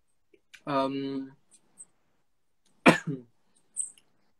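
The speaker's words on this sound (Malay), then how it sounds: "Batuk-batuk." Two short coughing sounds, the first drawn out and voiced, the second a sharper burst a couple of seconds later, with brief quiet between.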